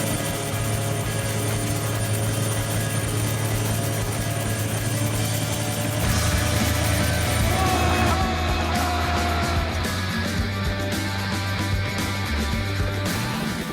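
A helicopter in flight roughly 150 feet above the ground, its rotor and engine drone loud, close and continuous throughout, swelling slightly partway through with no talk over it.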